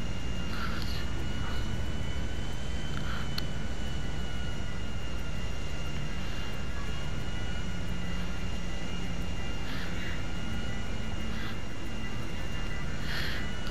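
A Shamal business jet flies in GTA V, its engine a constant, even drone with a high whine that holds without a break the whole time, with no voices.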